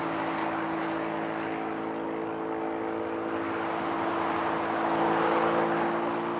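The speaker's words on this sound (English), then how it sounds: "That's a loud bike right there." A loud motorcycle rumbles past at a distance outdoors, its steady engine drone swelling slightly toward the end with no voices over it.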